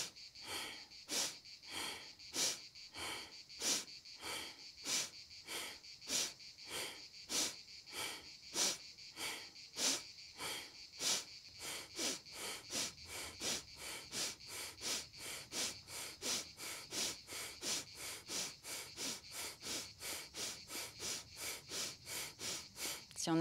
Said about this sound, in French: Pour pouvoir bien expirer, il faut pouvoir bien inspirer. La même quantité d'air. On inspire d'un coup sec.